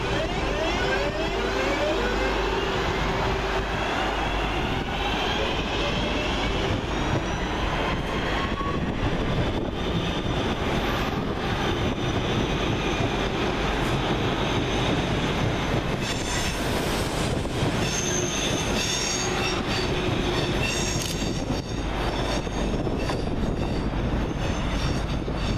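West Midlands Railway Class 323 electric trains pass through Aston station with a steady loud rumble, wheel squeal and rail noise sustained throughout, and some brief higher screeches partway through.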